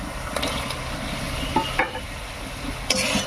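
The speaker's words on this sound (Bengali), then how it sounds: "এবার টমেটোটা মশলার সঙ্গে একটুক্ষণ কষিয়ে নেব" Tomato fries with spice paste in oil in a pan, a soft steady sizzle under a few sharp scrapes and clinks of stirring, close by and fairly quiet.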